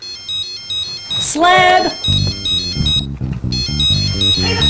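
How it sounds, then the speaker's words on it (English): A mobile phone ringtone plays loudly in a repeating, chiming melodic pattern, briefly interrupted by a person shouting, then continuing under a low musical bed. "Who the fuck left their phone"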